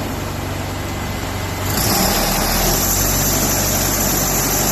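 A race car engine runs on a dynamometer with the trans brake locked, a steady loud drone that steps up sharply in level and pitch about halfway through as it is rolled up and held at high revs.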